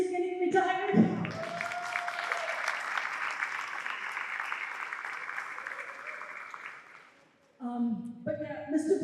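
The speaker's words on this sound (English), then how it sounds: "will you all join me in a round of applause" A crowd at a high school athletic hall of fame ceremony breaks into sustained applause lasting several seconds, bracketed by a person speaking before and after.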